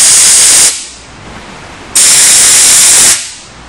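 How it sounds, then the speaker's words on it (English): A 100 PSI air hose blasts at a lit stormproof match in two loud, close hissing bursts, each lasting about a second, separated by a quieter stretch of lingering airflow. "We've got a 100 PSI air hose that we're going to use to demonstrate wind"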